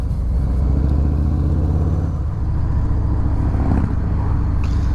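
A Harley-Davidson Fat Bob motorcycle engine while riding, a steady deep low rumble with constant wind noise, continuous and close throughout.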